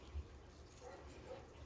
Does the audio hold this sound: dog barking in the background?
yes